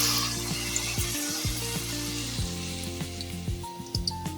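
Egg and flour snack batter sizzles in hot oil, a steady close frying hiss with faint utensil clinks, no talk.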